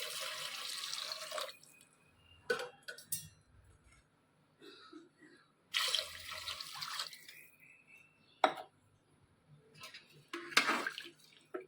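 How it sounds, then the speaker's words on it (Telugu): Water is poured from a glass into a pot of rice with salt for tomato rice before pressure cooking, coming in several separate splashing bursts with quiet gaps between them, close up and fairly soft. "2 గ్లాసులు వాటర్ పోసుకుందాం."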